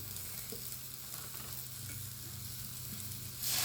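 Paneer frying in a pan as vinegar and soy sauce go in, a steady close sizzle that runs on evenly with no talk.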